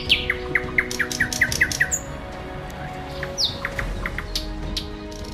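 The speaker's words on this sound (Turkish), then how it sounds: "adeta müzik gibi dinlendiren kuş sesini dinleyeceksiniz" Birds sing and chirp nearby at a lake in Arpaçay, Kars, a rapid series of descending whistled notes followed by scattered tweets and squawks.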